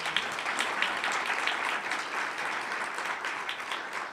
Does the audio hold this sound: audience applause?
yes